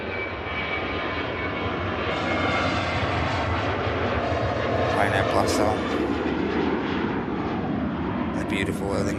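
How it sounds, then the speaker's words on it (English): An Aer Lingus Airbus A330 with CF6 engines taxis out at Manchester Airport, giving a steady, fairly loud engine rumble and whine that lasts throughout, with someone talking over it. "beautiful Aer Lingus 330 on the taxi out for the Big Apple. CF6 power on the way."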